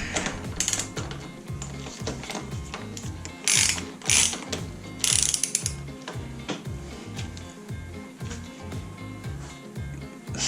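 A ratchet clicks in quick repeated bursts as a motorcycle fork cap is tightened during a fork seal and suspension service, the close, crisp ratcheting broken by a few short pauses and sharper metallic rattles.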